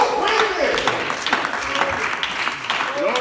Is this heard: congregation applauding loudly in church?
yes